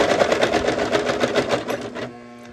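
Sewing machine stitching slippery cloth for a bath mitt, a loud, fast steady mechanical whir with rapid needle pulses that runs close and alone for about two seconds, then stops abruptly.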